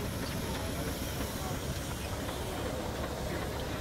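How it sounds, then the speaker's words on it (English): A 1914 Burrell steam road locomotive, built for heavy haulage, working at a steam rally, giving a steady broadband hiss and low rumble that fills the whole stretch at constant loudness, with faint crowd voices underneath. "Burrell Road locomotive"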